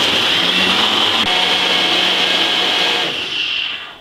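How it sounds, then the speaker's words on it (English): A Ninja blender whirring steadily as it blends a broccoli drink, a loud, continuous motor drone that holds nearly constant and then fades slightly at the end. "So we're gonna blend this about 3 to 4 minutes on a ninja blender."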